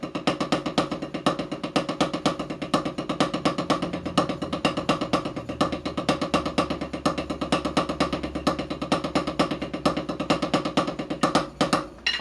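Snare drum paradiddle variation played as single strokes shifting to triple strokes with accents, a steady dense stream of crisp hits with periodic louder accents running without a break throughout.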